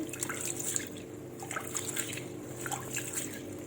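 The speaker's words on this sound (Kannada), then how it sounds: "ಇನ್ನು ಸ್ವಲ್ಪ ನೀರು ಹಾಕಿ" Water poured over washed moong dal and rice, a continuous close trickle with light splashing and drips throughout.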